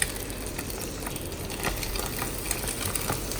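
Cooked rice is tipped into a pan with oil and stirred for nasi goreng with green chilies and petai beans; a steady broadband sizzle runs throughout, with faint scraping stirs and no talk.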